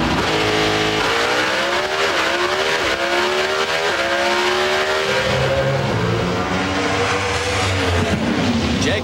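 Pro Stock drag racing cars at the NHRA US Nationals roar loudly, engines revving and rising through repeated gear shifts in a sustained howl, with faint tire noise.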